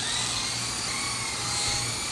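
A small radio-controlled helicopter flying close by, giving a steady, high, whining buzz of motor and rotor that holds level throughout with no break.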